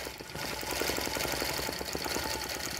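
A sewing machine quilting feather designs on a wallhanging runs in a fast, steady mechanical rattle, close and loud throughout with no pauses or speech.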